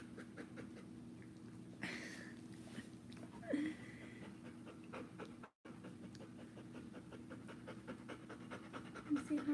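A dog pants heavily and rhythmically after a walk, quick close breaths repeating steadily at home, with a brief cutout midway.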